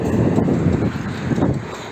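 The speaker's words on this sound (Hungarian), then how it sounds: "elvisz a szél" Strong wind buffets the microphone outdoors in Székesfehérvár, a loud, continuous low roar with gusty swells and no pause for the full two seconds.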